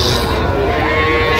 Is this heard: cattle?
yes